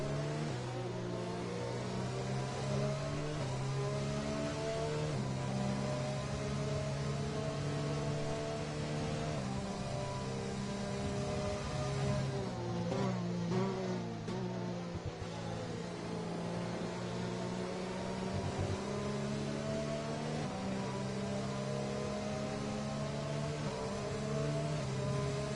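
Formula 1 race cars from the F1 2020 game at the Australian Grand Prix hold a steady, droning engine note as the field runs bunched behind the safety car, continuous and fairly loud, with subtle revving changes throughout.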